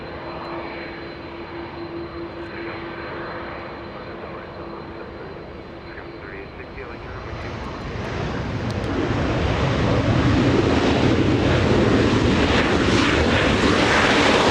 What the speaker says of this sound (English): United 1756 flying in from Vancouver. A 737-800